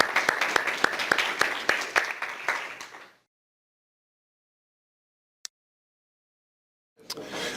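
Audience applause at a tech industry awards ceremony, a steady crowd clapping with sharp individual claps for about three seconds before falling silent, then a brief click and the clapping resuming.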